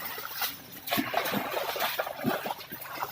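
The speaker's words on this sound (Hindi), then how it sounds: "ये सारा पानी जो है अब ये खेतों की तरफ जो है जा रहा है।" Water from a tubewell flows through rural fields near Hyderabad, Sindh, a continuous close trickling and splashing with uneven surges, no voices over it.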